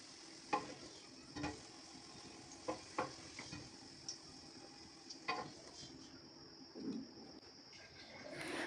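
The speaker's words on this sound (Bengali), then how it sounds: "আলুগুলো হালকা হালকা বাদামি করে ভেজে নিচ্ছি।" Potato pieces frying in a pan until lightly browned, a soft low sizzle broken by several sharp stirring scrapes and taps spaced irregularly across the clip.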